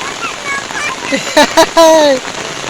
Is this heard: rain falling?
yes